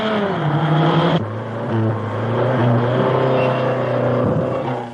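Racing cars and ordinary family saloons compete on a circuit, engines droning loud and steady with rising and falling pitch as they rev and pass close by, no talk.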